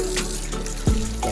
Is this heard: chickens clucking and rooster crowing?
no